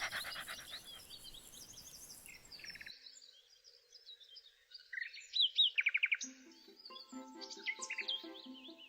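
Small birds chirp and tweet in a garden, with quick trilling calls and short repeated bursts of bright notes, fairly close and clear, with no voices.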